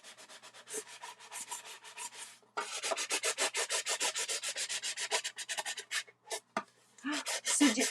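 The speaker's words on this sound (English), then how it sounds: "I'll just give it a little sanding just to rough it up a little bit." Rapid, steady rubbing strokes of sandpaper against a smashed metal can, close up, with a brief pause before the sanding resumes in quicker bursts.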